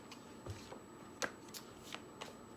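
Tarot cards being shuffled by hand, soft quiet riffles and taps in a few separate bursts, close and faint with no talking.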